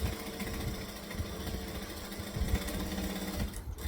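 Sewing machine stitching and back stitching a bag, a steady close mechanical whirr with a rapid needle rhythm, briefly pausing near the end.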